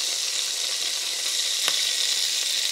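Dutch Blinde Vinken, beef rolls wrapped around ground beef, sizzle in a frying pan with a constant bright hiss close by and one brief sharp pop near the end.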